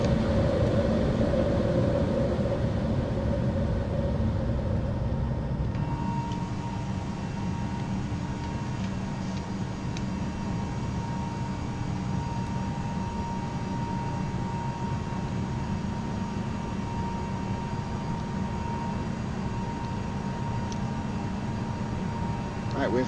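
Airliner jet engines in the X-Plane 11 flight simulator during climb, a steady loud broadband roar with a faint tonal whine, shifting slightly after a few seconds and continuing evenly.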